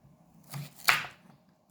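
A knife dices cocoyam on a cutting board while making Jamaican mannish water, giving a couple of soft, close chopping taps with a sharper cut in the middle.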